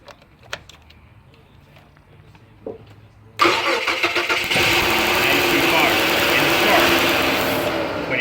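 A Dodge Charger that won't start, fault linked to a fuel pump relay and key transponder, gives a few faint clicks and then a sudden loud, rough burst of engine noise that holds steadily, heard up close with no one talking.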